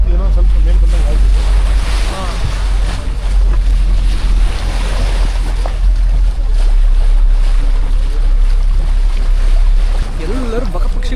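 A whale-watching boat rides the open ocean off Mirissa in southern Sri Lanka. Its engine rumbles low and steady under loud wind buffeting and the rush of waves, with muffled voices in the background.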